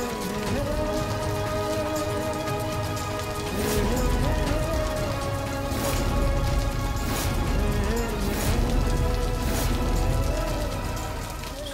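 Steady rain falling and pattering on surfaces, a dense continuous hiss with a few louder splashes, with no voices.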